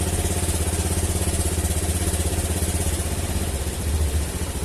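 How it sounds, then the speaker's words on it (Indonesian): A Honda Scoopy FI scooter engine idles unevenly and close by, a loud continuous pulsing chug with slight wavering in level, running alone with no voices. "Ini motornya masih mati-mati, kita besarkan dulu setelah ini screw-nya."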